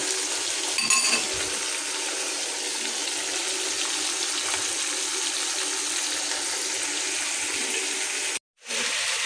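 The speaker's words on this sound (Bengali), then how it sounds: "আর এখানে যে কিছু পুঁটি মাছ ভাজতেছি" Small puti fish frying in a home kitchen pan, a steady hissing sizzle that runs nearly unbroken and fairly close, with a brief cut near the end and no talk.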